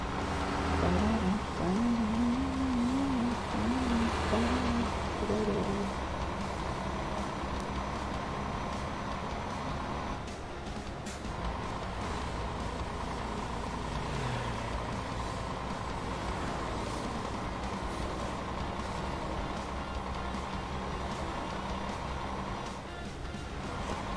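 A heavy truck rumbles steadily on a road for a long stretch, with a warbling engine or horn tone near the start and continuous loud traffic noise throughout.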